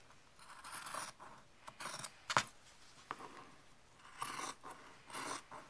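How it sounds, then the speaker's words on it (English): Scissors snipping through quilting fabric between stitched lines, a series of soft crisp cuts and rasping slides in short irregular bursts, close and quiet. "I'm going to cut in between the lines, and you can use your rotary cutter or you can use your scissors."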